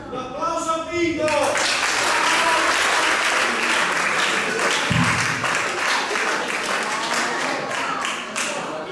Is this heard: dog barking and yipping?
no